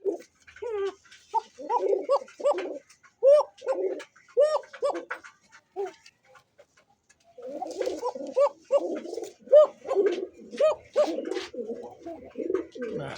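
Pigeons of the large sky-blue Rajgolla breed, a racer-quality pair, coo repeatedly in soft rounded phrases, close by. A burst of cooing is followed by a brief pause, then another steady run of calls.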